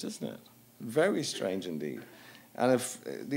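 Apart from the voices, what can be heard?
No everyday noises stand out.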